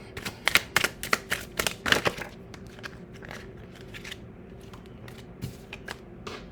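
Tarot cards scattered across a surface are picked up and gathered into a pile, giving a quick cluster of crisp shuffling clicks and card slaps up close, then a quieter stretch with occasional soft card taps.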